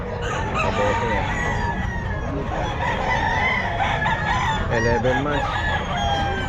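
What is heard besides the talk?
Pumpkin Sweater gamecock rooster crowing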